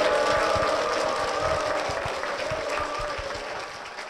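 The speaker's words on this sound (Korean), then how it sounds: "박수로 모실게요." Applause welcoming a guest onto a Korean Christian TV talk show, a studio audience clapping loudly and densely before it gradually fades toward the end.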